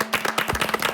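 A brief burst of studio audience clapping on a Korean talk show, a handful of quick, close claps over less than a second.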